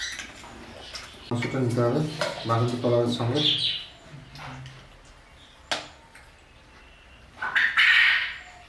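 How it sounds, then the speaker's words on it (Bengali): A bird chirps a few short times in the background near a home kitchen while people talk over it about food. "পাখি ডাকছে, দেখেছো?"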